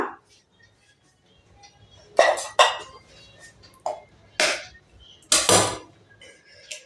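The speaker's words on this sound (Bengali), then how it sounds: "আমি দুখানা ডিম ভেঙে দেব এর মধ্যে" Two eggs cracked against a bowl of oats for pancake batter, giving a few sharp clinking taps and cracks in a quiet kitchen, spaced apart over several seconds.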